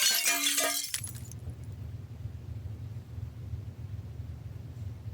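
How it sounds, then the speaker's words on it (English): Glass cracks and shatters in a short, bright burst of splintering and tinkling in the first second. A low, steady rumble follows and carries on alone with no voices. "So you can add glass cracking effects to almost anything that has glass."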